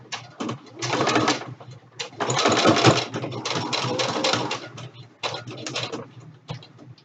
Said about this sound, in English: we'll put the presser foot down and just go ahead and stitch it